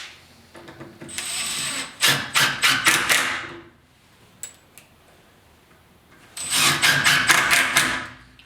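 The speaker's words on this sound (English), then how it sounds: "I'll just screw this in." Drill driving 1 1/4 inch screws into a wooden picture frame, two close bursts each made of a whine and a run of rapid ratcheting clicks, separated by a quiet gap with a faint tap.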